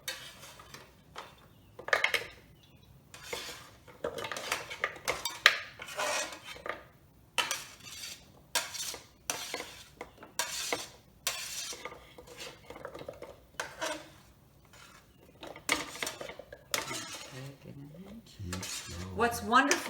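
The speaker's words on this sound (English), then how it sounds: "So all you do is take your frozen fruit and add it to your food processor." Frozen fruit pieces for sorbet drop and clatter into a food processor bowl, a quick run of sharp clinks and knocks in uneven bursts, fairly close and with no talking.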